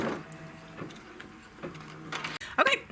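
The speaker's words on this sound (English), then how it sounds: "Okay, it's finished stitching this part of the design." An embroidery machine stitches the small top petal of a poinsettia design, a close steady mechanical whir and rattle with short bursts of stitching, ending in a sharper clatter.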